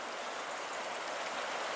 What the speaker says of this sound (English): with the birds chirping and the water running.